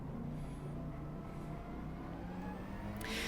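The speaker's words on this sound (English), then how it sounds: "we get passed by another Mercedes" A Mercedes race car in Gran Turismo 7 passes on a game track at Dragon Trail Gardens, a steady droning engine roar holding at moderate level, with a bright burst near the end.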